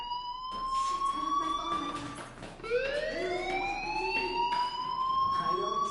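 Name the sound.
fire alarm ringing in a school, from a video game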